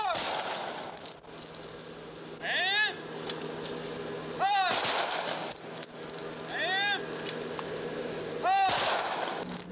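A 21-gun salute fires at a naval memorial ceremony, with sharp volleys booming at intervals of about two seconds, each followed by a ringing tail, under a narrator's voice.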